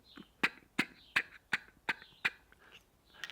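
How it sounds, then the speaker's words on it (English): A duck call blown as a feeder call in a string of seven or so short, evenly spaced single-tick notes, fairly quiet and close, with no talking. "In the back of the call, it sounds like this."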